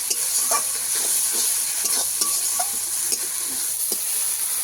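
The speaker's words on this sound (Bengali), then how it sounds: "মশলা কষাবো তেল ছাড়া পর্যন্ত" Ground spice masala with tomatoes stir-fries in oil for a fish curry, a continuous loud sizzle broken by regular scraping and clacking strokes of a spatula against the pan.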